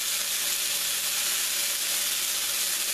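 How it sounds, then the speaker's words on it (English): Chunks of stew beef searing in a hot pan, a steady, loud sizzle with a constant hiss throughout. "So just kind of get them seared up."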